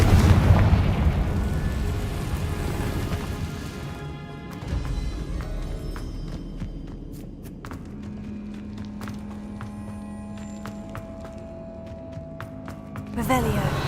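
Blasting spells Bombarda and Confringo going off in Hogwarts Legacy, a loud opening burst followed by a rumbling, crackling aftermath that settles into lower debris and ambience, with a second sharp burst near the end and a voice calling out over it.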